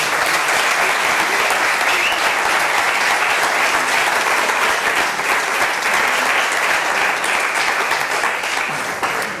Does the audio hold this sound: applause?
yes